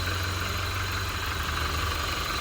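A Toyota Innova Reborn 2.4 diesel automatic V, 2021 model, idles in a steady, close rumble with a faint knocking clatter and a constant whine throughout.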